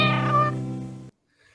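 A single drawn-out cat meow from a Johnny Cat litter commercial, loud and close, rising then fading before cutting off abruptly into near silence.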